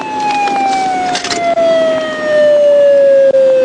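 An Arkansas State Police car's wailing siren holds a steady falling tone, loud and close, with traffic noise beneath it, during a high-speed pursuit.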